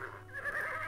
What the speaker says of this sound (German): Da sind noch Pferde.